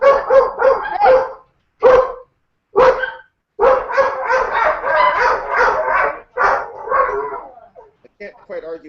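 Dogs bark in repeated loud bursts, several sharp barks in quick succession with short pauses, mixed with voices on what sounds like an online call.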